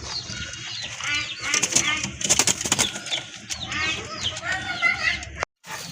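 Pigeons at a pigeon market coo and call in short bursts, with occasional wing flutters, mixed with nearby people talking.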